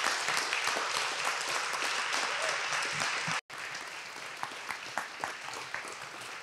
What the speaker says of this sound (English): Let's give an applause for them too